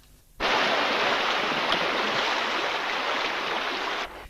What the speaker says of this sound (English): Just the peaceful sound of running water.